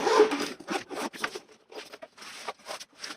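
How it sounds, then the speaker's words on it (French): A zipper on the side of a carrying pouch for a Parkside PBSPA 12 C3 12V cordless drill is pulled. It gives several quick, close, crisp zipping strokes in short bursts with brief pauses between them. "On a de chaque côté une fermeture éclair"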